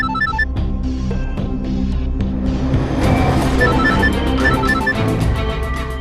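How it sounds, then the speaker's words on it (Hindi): A phone ringtone chimes in a repeating melodic pattern over a bed of dramatic background music, ringing loudly and steadily throughout. "अब तो प्रीतो का फोन है, उठाओ"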